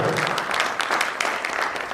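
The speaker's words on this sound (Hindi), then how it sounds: "एक बार जोरदार तालियां दोस्तों।" Applause from a seminar audience in India, a brief burst of dense clapping at steady volume throughout, with faint voices mixed in.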